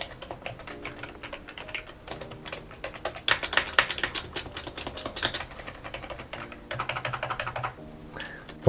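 Typing on an 80 euro gaming keyboard, a close, busy run of rattling keystrokes that speeds up into dense bursts with brief pauses, recorded on a lapel mic.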